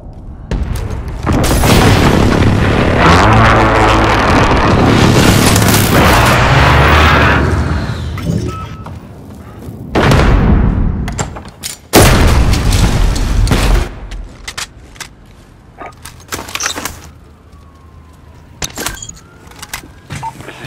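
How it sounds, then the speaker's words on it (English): Precision airstrike explosions in the video game Call of Duty: Modern Warfare: a long, loud, rumbling boom swells and fades, followed by another heavy blast and a few scattered sharp pops that trail off. "Precision airstrike, take!"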